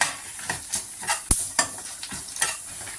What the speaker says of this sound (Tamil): இப்போ இது நல்லா பொரிஞ்சு நமக்கு வணங்கி வாசம் நல்லா வரும்.